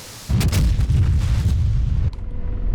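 A weapon fired from an AH-64D Apache strikes its target in the DCS World simulator, giving one heavy, close explosion with a deep rumbling boom that rolls on and then tails off.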